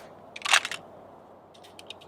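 Pistol slide released with the slide stop lever, a sharp metallic clack in one quick cluster of clicks, followed by a few fainter ticks, close by against quiet background noise.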